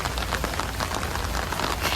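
Heavy rain falls steadily, a dense, loud, even hiss of drops striking surfaces with no break.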